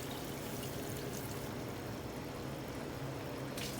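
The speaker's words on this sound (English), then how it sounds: "I still add water." Water pours into a pot of simmering beef stew, a steady, close, hissing stream that runs evenly without a break and stays fairly quiet, with no talking.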